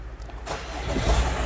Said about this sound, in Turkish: Aracımızı da çalıştıralım.